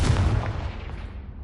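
A Confringo fire blast spell from the Hogwarts Legacy video game, a single loud booming burst at the start that rumbles and fades away over about a second.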